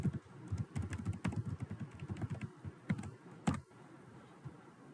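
Username and password typed on a computer keyboard, a quick run of close, quiet key clicks in uneven bursts, then a few final taps before falling silent.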